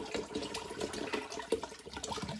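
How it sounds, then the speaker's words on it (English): Water pours into a fermenting mead brew made with hops and wheat rusk, a soft, steady splashing trickle heard fairly quietly and close. "So yeah, bit more water in there."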